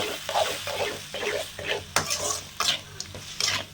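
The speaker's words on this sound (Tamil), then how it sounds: "உப்பு சேர்த்து நல்லா பரட்டி நல்லா வதங்கட்டும்" Tomatoes with salt sautéing and being stirred in a pan for a manathakkali kuzhambu, heard as a soft sizzle broken by repeated scraping strokes of a utensil, close and fairly loud.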